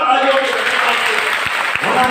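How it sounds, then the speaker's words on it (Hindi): Loud, dense applause fills the hall at a girls' senior secondary school annual function, continuous clapping from a large audience with no speech over it. "आज चैनरूप जी और रेखा राम जी के लिए आप जोरदार तालियों"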